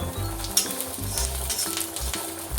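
Spices roast in hot oil for a village-style fish curry, giving a close, steady sizzle broken by scraping stirs and light clinks of a utensil against the pan, with no one talking.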